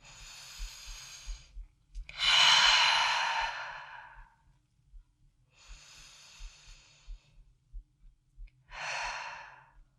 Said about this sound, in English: We'll just take 1 or 2 deep breaths here.